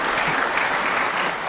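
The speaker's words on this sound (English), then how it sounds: "The applause tells you we're at the snooker's required stage." Snooker spectators at the World Championship final between Selby and Higgins keep up a brief, even burst of applause, dense and sustained, with no voices over it.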